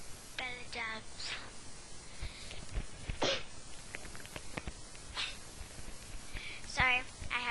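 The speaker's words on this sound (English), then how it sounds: "Sorry, I had to sneeze." A single sharp sneeze bursts out mid-clip from a person playing Animal Jam, loud and close, surrounded by brief voice sounds and light clicks.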